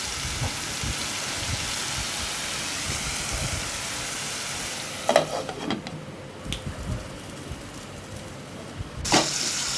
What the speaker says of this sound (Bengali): ঝিঙেটাকে এবার ভালো করে নাড়িয়ে চাড়া দিয়ে এবার ঢেকে দেবো